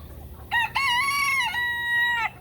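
A rooster on a chicken farm lets out a single loud, close cock-a-doodle-doo lasting nearly two seconds over quiet farmyard background.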